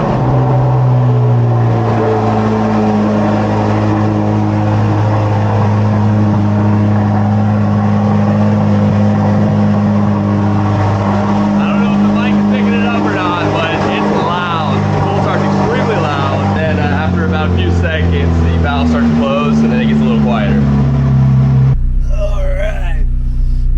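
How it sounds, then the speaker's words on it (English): A brand new 2023 Chevrolet Corvette C8 Z06 engine cold-starts and holds a loud, steady, deep high idle with a rich droning rumble that drops off abruptly near the end. "Let's get a cold start on the brand new 2023 Z06."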